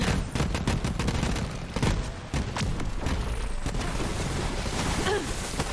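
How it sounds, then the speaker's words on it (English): Video game gunfire, a dense burst of rapid shots and heavy thuds in quick succession, loud and close, with the blasts running into one another and no talk over them. "Let's go shoot this bastard first."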